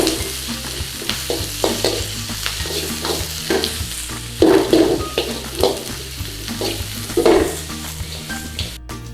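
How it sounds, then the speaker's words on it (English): Peppers, onions and green onion stir-fried in a hot pan, with a steady sizzle broken by repeated scraping and tossing strokes and a few louder bursts as the vegetables are turned. "just give the veg a little bit of a stir fry around"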